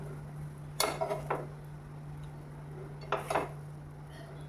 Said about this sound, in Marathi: एका भांड्यात काढून घेते